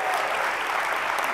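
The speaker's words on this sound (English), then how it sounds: "applaud a little louder for them" Conference keynote audience applauding, a dense, steady wash of clapping from a large crowd, loud and sustained across the whole short stretch.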